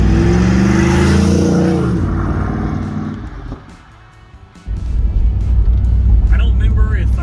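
A 1996 Pontiac Trans Am WS6 moves off with a deep, loud engine rumble that eases into a quieter stretch, then returns as a strong, steady drone from inside the car.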